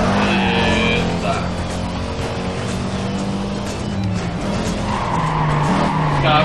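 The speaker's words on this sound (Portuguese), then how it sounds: "O carro que tá jogando aqui eu acho que é o Camaro, se eu não tô enganado." A Camaro in Need for Speed Carbon drives with a loud, steady engine roar while its tires squeal and skid through sustained slides, the sound dense and continuous from start to finish.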